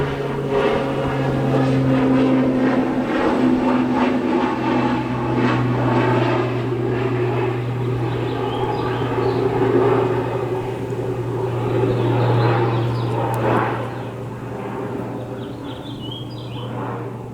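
A jet airliner flies over on its approach, a steady, loud engine roar with a low hum and broad rushing noise sustained for many seconds before easing slightly, with faint birds chirping in the background.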